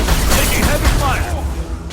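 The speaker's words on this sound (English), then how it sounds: "Taking heavy fire!" Heavy gunfire and booming blasts from a Mass Effect 2 Legendary Edition firefight, loud and continuous across the moment, with voices shouting beneath the din.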